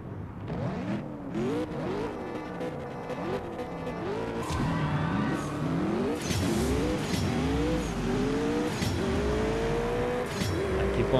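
A McLaren 720S roars through a race in the CSR 2 mobile racing game, its engine revving up in repeated rising sweeps with gear shifts, loud and steady over background music, with some talking.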